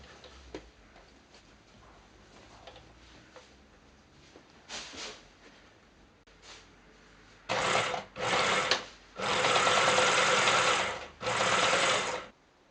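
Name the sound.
sewing machine stitching fabric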